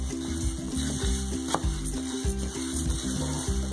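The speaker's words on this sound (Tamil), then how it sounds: "பாருங்க, இப்போ மல்லி வந்து நல்லா வறுபட்டுருச்சு, வெடிக்க ஆரம்பிச்சிருச்சு." Coriander seeds roasting in oil in a pan for a kulambu chilli powder mix, a continuous close sizzle broken by small crackles and an occasional sharper pop.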